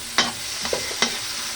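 Cut tomato pieces sauté in a hot pan for sinigang na manok, giving a steady sizzle with a few short bursts of stirring or spattering.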